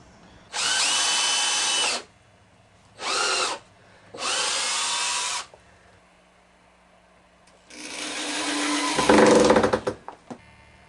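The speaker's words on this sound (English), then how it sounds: "Now I'm going to drill right here for a screw to go in." A power drill bores a screw hole into a DDR metal dance pad, running in three close, loud bursts with short pauses, followed by a longer drilling run that bogs down near the end.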